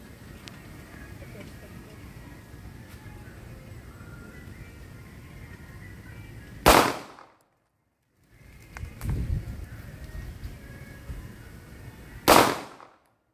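Two sharp, loud gunshots from a Walther P99 pistol ring out several seconds apart outdoors at a range, each a sudden blast, with quiet background murmur and voices between shots.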